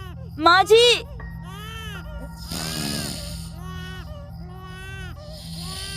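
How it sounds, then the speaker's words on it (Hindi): An infant cries outside a door at night, its wails rising and falling in repeated bursts against a low steady hum, with a voice briefly calling out in between. "ये दरवाजे के बाहर किसका बच्चा रो रहा है, वो भी रात के 2 बजे?"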